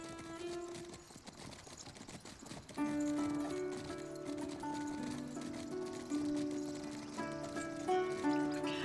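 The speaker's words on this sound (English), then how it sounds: "And we're gonna be on horse." Horse hooves clip-clop steadily in the video game Legends of the Round Table, a quick rhythmic gait over game music that swells partway through, no talk.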